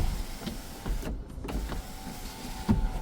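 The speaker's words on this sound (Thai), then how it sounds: "ตัวนี้เป็นซันรูฟนะครับสามารถเปิดปิดได้" The sunroof motor of a 2013 Lexus RX450h runs with a smooth, close electric whine, stopping briefly and starting again as the glass panel opens and closes inside the cabin.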